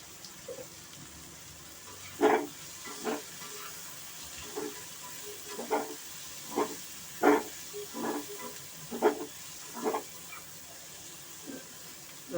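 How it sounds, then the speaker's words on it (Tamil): Onions sautéing in a pan for drumstick pori kulambu give off soft, intermittent bursts of sizzling about once a second, fairly faint against a quiet kitchen background. "வெங்காயம் வதங்கணும், நல்லா கொஞ்சம் மூடி போட்டு வதக்கும்"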